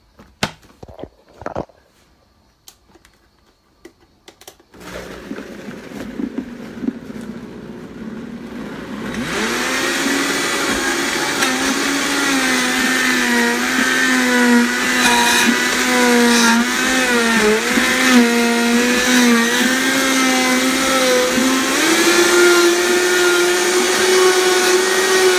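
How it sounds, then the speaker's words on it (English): A blender starts up and runs steadily with a loud whirring motor as it blends rice milk and juice, its pitch shifting slightly as the contents churn, after a few seconds of quiet handling noises. "I'll just use a little bit of rice milk at the bottom just to get the blender going"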